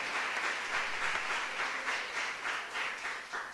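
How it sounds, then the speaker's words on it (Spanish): A church congregation claps together in sustained, fairly distant applause, a dense wash of hand claps with gentle swells and no voices over it. "Dale un aplauso al Señor si usted se siente feliz de ser de Dios."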